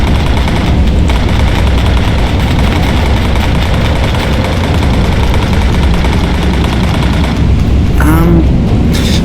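Gunfire in the Bomber Crew video game, with enemy fighter cannon and machine guns firing amid droning aircraft engines, fills a loud, continuous, dense barrage, with a sharper whistling burst near the end.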